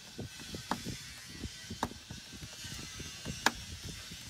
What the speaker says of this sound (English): Screw it right in.